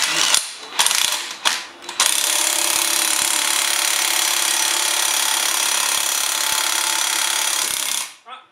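A screw being turned with a tool while a trumpet is taken apart gives a close, steady ratcheting grind. It stops and starts a few times, then runs on for about six seconds with no one talking.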